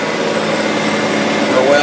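A tractor engine runs steadily while cutting hay, travelling at about 6.5 miles an hour; a loud, continuous drone fills the brief stretch, close by.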